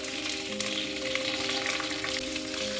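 Small onions drop into hot oil with curry leaves and dried red chillies for a mixed dal tempering, producing a brief steady sizzle and hiss close up, with a faint hum underneath.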